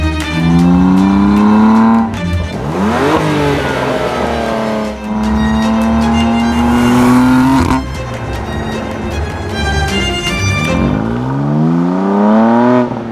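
BMW M2 Competition with the S55 engine and Valvetronic exhaust, revving hard and loud up close, climbing through gears with rising roars, brief dips between shifts and a raspy, throaty exhaust note.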